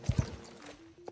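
Horse hooves clip-clopping in the video game Star Stable, a few quick soft thuds followed by light ringing game sounds, fairly quiet with no talk.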